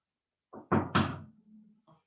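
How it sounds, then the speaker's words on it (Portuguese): Knocking on a door at home, a few quick solid thumps close by, followed by faint trailing noise. "Minha filha batendo na porta aqui."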